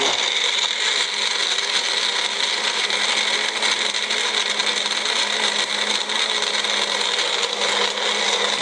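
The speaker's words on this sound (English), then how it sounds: "My magic bullet is doing fine." A Magic Bullet blender whirs steadily at close range, blending a green smoothie with ice in one continuous loud drone with no talking.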